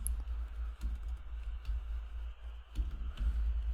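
Typing on a computer keyboard while writing code: light, scattered key clicks at an irregular pace over a steady low hum, with no talking.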